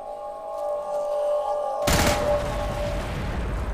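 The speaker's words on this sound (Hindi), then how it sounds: "ये धमाके ऐसे पसंद है मुझे, आई लाइक देम।" Explosions in the zombie shooter Into the Dead 2 erupt suddenly as a loud broadband blast midway, then rumble and crackle on over a droning tonal game soundtrack.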